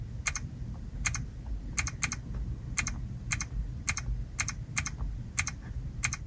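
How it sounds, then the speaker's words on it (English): Taps on a Kia EV6 infotainment touchscreen while entering a navigation destination, each press giving a crisp, sharp click, about a dozen in an uneven tapping rhythm, heard close and fairly quiet over a low cabin hum. "I also love the sound this makes when you type stuff into it, like for instance a navigation destination"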